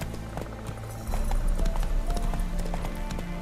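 Roach the horse from The Witcher 3 gallops in a steady, fast run of hoof clip-clops, growing louder and nearer after the first second, with the thump of a game soundtrack underneath.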